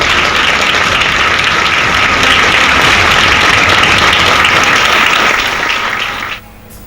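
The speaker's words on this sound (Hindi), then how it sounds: "तालियां बजाएं।" Children clapping together at a birthday cake cutting, a dense, steady burst of applause lasting several seconds before it tapers off and stops near the end.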